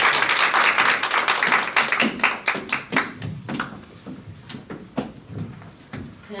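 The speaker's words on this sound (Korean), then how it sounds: "큰 박수로 모시겠습니다" Audience applause at a live weekly business meeting greets a saleswoman about to give a one-minute speech; uneven clapping starts fairly dense and loud, then thins into scattered, tapering claps.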